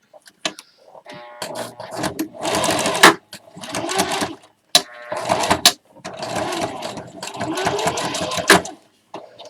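A domestic sewing machine runs fast in several bursts of rapid stitching, separated by short pauses, loud and close, with brief speech in the gaps.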